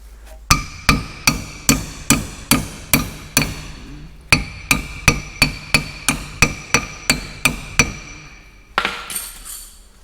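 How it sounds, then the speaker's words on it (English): A hammer strikes metal pins on a farm corn head being rebuilt, giving about twenty sharp, ringing metallic blows in a steady rhythm, with a brief pause midway and a rattling clatter at the end. "I need my hammer first, I guess."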